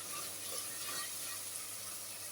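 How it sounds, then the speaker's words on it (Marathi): Onions, tomatoes and potatoes frying in about two and a half spoons of oil for a spiced khichdi, a steady soft sizzle with faint crackle, continuous and fairly quiet with no voices. "कांदे टमाटर बटाटे हे पूर्ण आता फ्राय होऊ देतो यांना"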